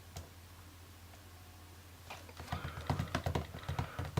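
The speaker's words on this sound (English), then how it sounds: "now if I go to type something, if I write an email for instance" Typing on an iPad mini keyboard case, a quick run of light clicky keystrokes that begins after a quiet stretch, close and moderately loud, with no voices.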